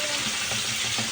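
Chopped onions frying in hot oil for a spiced bagoong alamang shrimp paste give off a steady, close, dense sizzle with faint crackles throughout, and no voices.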